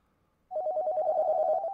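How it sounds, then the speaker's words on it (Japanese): Office telephones ringing in a horror video game, an electronic trill that starts abruptly and continues steadily and loud, with no voices. "1階に上がると備え付けられている電話が全て鳴っていた。"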